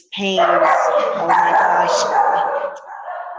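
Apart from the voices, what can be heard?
dogs barking in the house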